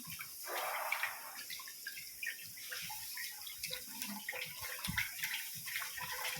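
Rice being washed by hand in a pot of water, with close sloshing, swirling and dripping sounds moving unevenly throughout.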